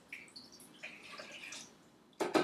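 Water from a cup poured into a big measuring cup while making flour tortillas: faint trickling and dripping, then a louder splashing gush at the end, with no talk.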